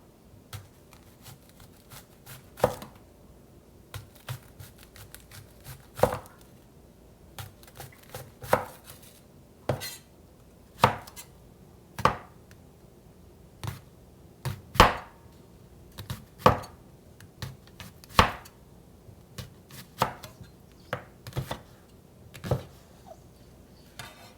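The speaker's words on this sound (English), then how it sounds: "Now we're going to slice up some onions that we're putting in the bottom of the pot to make the fish stock." Onions sliced with a knife on a cutting board for a fish stock, heard as a long run of crisp, close chopping strokes with uneven spacing and brief pauses, no talk.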